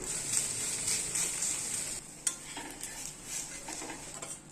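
A mung bean crepe (Kakinada-style pesarattu) sizzles steadily on a hot pan, with a sharp scrape and clatter of a spatula as it is flipped midway, then continued frying and light utensil sounds.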